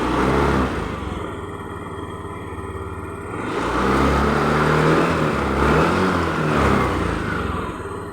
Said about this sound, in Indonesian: Coba kita pelintir gasnya ya.